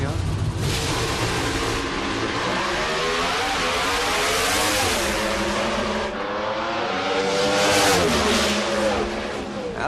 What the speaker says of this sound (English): See Mike Edwards on that launch, the way the front end came up and that thing grabbed hold of a racetrack